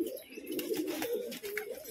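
A Sorokbaji racing pigeon coos continuously at close range, producing a deep, throaty, rolling call that rises and falls in pulses, with no voices over it.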